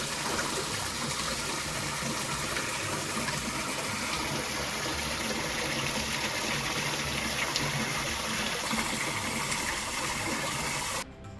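A hill stream along a forest hiking trail rushes steadily toward a waterfall, a dense continuous wash of flowing water at close range that fills the whole stretch with no voices.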